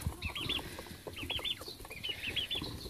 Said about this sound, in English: Here you can see our chickens,